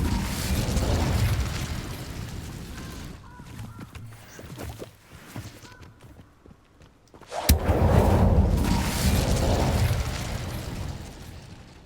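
The Incendio fire spell cast in Hogwarts Legacy: a loud, dense roaring blast that dips into a quieter stretch, then flares into a sudden burst and a sustained fiery rush.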